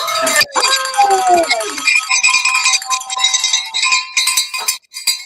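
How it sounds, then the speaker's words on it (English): A hand bell rings rapidly and continuously for a few seconds, bright and close, to mark a giveaway winner at a crafting session, with tones shifting as it is shaken. "I get my bell."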